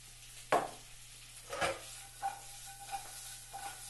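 Seasoned stir-fry ingredients are tossed over high heat in a pan, with a few sharp scraping stirs and soft sizzling bursts at irregular intervals, fairly quiet and close, with no voices.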